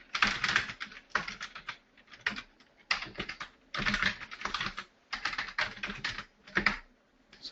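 Someone types on a computer keyboard in quick close bursts of clattering keystrokes separated by short pauses, with no voices heard.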